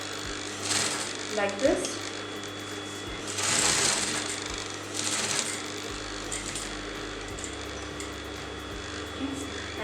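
Sewing machine stitching the V neckline of a kurti, short buzzing bursts of rapid needle motion close by, stopping and starting, while someone talks throughout.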